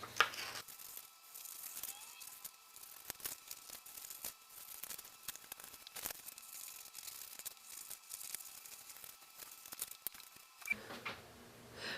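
Paper picture templates being cut out by hand with scissors, a quiet, steady run of soft snips and rustling paper close by, with no talking.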